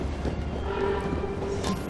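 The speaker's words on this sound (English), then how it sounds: "Alright, we got on the train." Train in the video game Assassin's Creed Syndicate, a continuous rumbling roll with clattering undertones and a faint sustained whistle-like tone, heard close and steady without speech.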